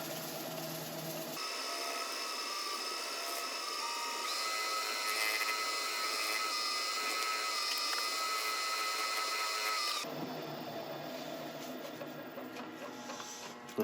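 A lathe spins spalted wood while finish is buffed into it, giving a steady, moderately loud whirring hum with a bright mechanical whine that runs unbroken for about nine seconds before dropping back to a quieter room tone.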